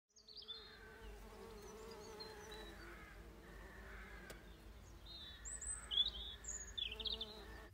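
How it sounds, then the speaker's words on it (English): Steady, quiet buzzing of bees drifting close and away in a garden, with faint bird calls in the background and no talking. "One of my great pleasures is listening to the bees."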